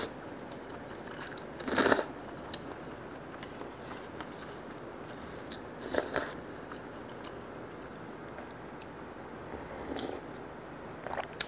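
Konjac noodles are eaten during a late-night diet mukbang, with soft wet chewing and slurping close to the mic, punctuated by three louder bursts spaced a few seconds apart.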